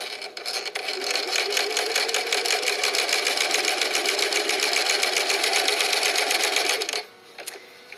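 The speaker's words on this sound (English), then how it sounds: "I'm just sewing a straight stitch" Sewing machine stitching a straight seam at a 2.5 millimeter stitch length, a fast steady mechanical whirr running close and loud for about seven seconds before stopping, then a few faint clicks.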